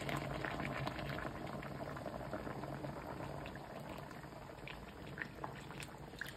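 Chicken fricassee soup with tostones simmering in a pot, giving a steady, close bubbling boil with dense popping and gurgling throughout, no voices over it.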